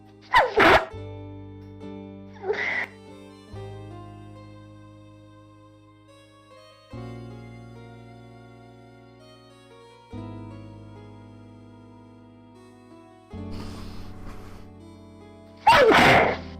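Sneezes from a person, a sharp burst at the start and another near the end, with smaller bursts between, all over steady background music from the Ace Attorney game.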